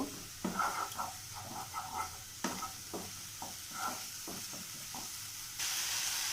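Masala spice paste with Kashmiri chilli powder frying in oil in a pan, a steady close sizzle broken by repeated scraping stir strokes, with no talking.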